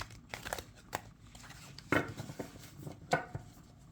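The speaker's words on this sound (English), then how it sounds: "Get a good shuffle in there." A tarot deck from the Tarot & Oracle of the Rose set is shuffled by hand, giving soft irregular card slaps and riffles with a few sharper snaps, quiet and close.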